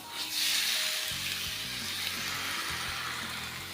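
Bajra flatbread (dhapate) dropped onto a hot griddle, giving a steady, close hiss and sizzle that holds for several seconds.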